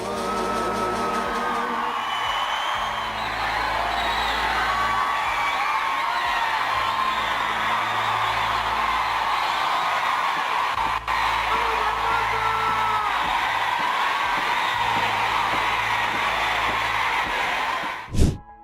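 A loud, sustained crowd roar with whooping and yelling fills Jenni Rivera's last concert, steady throughout, ending in a sharp burst near the close; no individual shout stands out clearly.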